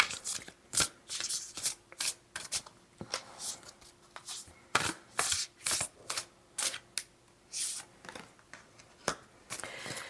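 Tarot cards are shuffled and drawn in bursts of sharp riffling slaps and flicks, close and crisp, separated by brief pauses, with no talking.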